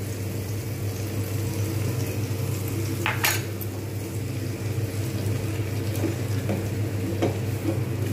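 Curd masala with gram flour and beaten yogurt being stirred and fried in a pan for Amritsari paneer bhurji, a steady low sizzle with occasional scraping clinks of a spatula against the pan.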